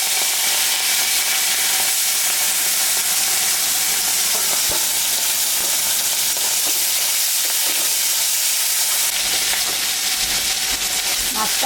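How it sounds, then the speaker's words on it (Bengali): Shrimp frying in hot oil for a Bengali shrimp and kochu dish, a loud, steady broadband hiss of sizzling that runs continuously, close and unbroken, with no voices. "এবার আমি মাছটা ভাজবো"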